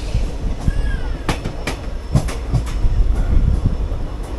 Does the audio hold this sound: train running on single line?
yes